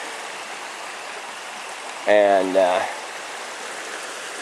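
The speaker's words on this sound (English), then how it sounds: "there is this large spring over there on that side" Water pours steadily from a large spring beside a bridge, a constant broadband rush that runs the whole time while someone briefly speaks over it.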